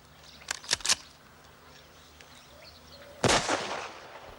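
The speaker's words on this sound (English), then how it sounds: "Fraser, fire a shot over their heads." A rifle shot fired over the heads of a crowd cracks sharply, close and loud, after a few shorter bangs, with faint background hum in a 1975 British wartime comedy scene.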